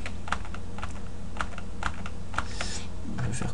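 Close, rapid clicking of computer keyboard keys as shortcut combinations like Ctrl+I are pressed in UVLayout software, with irregular taps over a constant low background hum.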